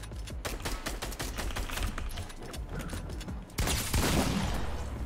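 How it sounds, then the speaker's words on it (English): Rapid gunfire in a video game rattles off in a quick irregular burst of sharp shots, followed by a louder noisy blast after a short pause. "Gunshots."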